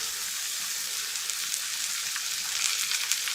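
Onions frying in butter and meat drippings, a dense, even hiss of sizzling fat filling the whole stretch, close and steady with no voices.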